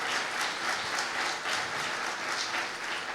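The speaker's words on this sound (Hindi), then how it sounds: "जोरदार तालियां बजाएं" A church congregation breaks into loud, sustained applause, a dense wash of many hands clapping together that carries steadily for a few seconds.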